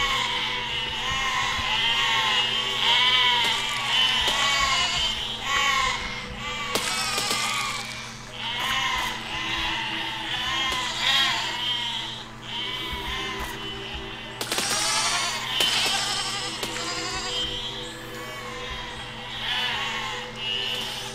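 Many sheep bleat in the physics building game Besiege, with overlapping, wavering cries that run continuously at close range. Mechanical clanks and brief thumps rise over them at times.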